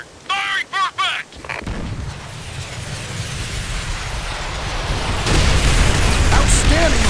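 An artillery barrage in Call of Duty: World at War rolls in as continuous rumbling booms that grow louder and heavier, after brief radio-style voices at the start.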